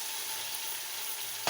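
Steady hiss of onion, tomato and spices frying in a pan for a kadhi-pakoda base, filling the whole stretch, with a short bright clatter near the end and no talk.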